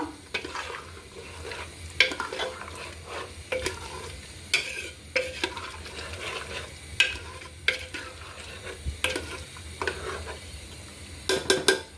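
Meat for Afghani Kabuli pulao is stirred and browned in a pot, with a steady sizzle of frying under repeated scraping clatter of a spoon against the metal, close and busy throughout.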